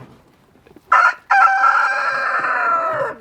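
A chicken at a homestead nesting box gives a loud, drawn-out call after a couple of short bursts, close and clear against a quiet background.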